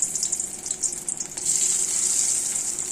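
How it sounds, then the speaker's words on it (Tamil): Gobi 65 cauliflower pieces deep frying in hot oil give a steady close sizzle that swells louder about halfway through and then holds, with no talking. "இப்போ எல்லாத்தையும் போட்டு பொரிச்சு எடுக்க வேண்டியது தான்."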